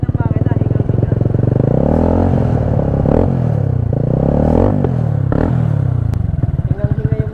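A PGO Tigra 150 scooter fitted with an Akrapovic exhaust revs hard again and again, each throttle blip rising and falling in a deep, full burble from close by. A voice can be heard faintly under the engine.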